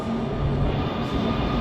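A train rumbles through a subway metro station in Los Angeles, a steady loud low roar with a brief high whine overhead, no voices.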